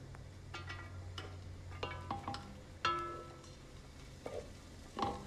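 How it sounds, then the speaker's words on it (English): Diced onions sauteing in a pan for a pomegranate and walnut stew, a low steady hum under scattered faint scrapes and clinks of utensils, quiet and close. "So we're gonna take 2/3 of that and start sauteing that."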